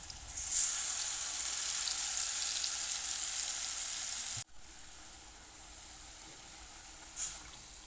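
Spice paste frying in oil in a pan for a spicy baim fish curry with tomato, a steady soft sizzle that drops suddenly midway, then quieter sizzling with a brief flare near the end.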